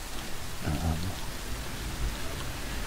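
Droning ambient sound art resembling steady rain, a continuous broadband wash of noise with a brief low murmur near the start, playing in the background at moderate level.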